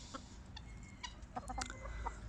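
Several chickens, recovering from a respiratory illness with cold-like symptoms, cluck softly in scattered bursts nearby, with low background rumble and no talking.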